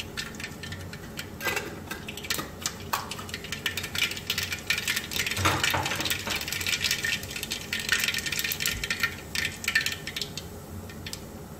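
Mustard seeds spluttering and popping in hot oil for a mutton curry, a dense crackle of sharp pops and sizzle running continuously, close and fairly loud throughout.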